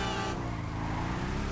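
A sturdy car in GTA Online drives up a hill path, its engine a steady, loud drone with rumbling low tones that hold evenly throughout.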